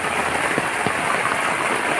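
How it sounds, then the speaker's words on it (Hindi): Heavy monsoon rain pours off a house roof in a steady, dense wash of water noise, close and continuous with a few brief splashes and no voices. "मोटा पानी आ रहा है छत से।"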